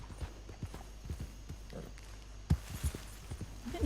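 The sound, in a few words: horse hooves, from the video game Red Dead Redemption 2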